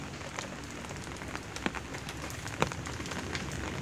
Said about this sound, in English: Right now at my garden, it is raining.